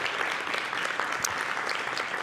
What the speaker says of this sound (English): So we give her again another big applause.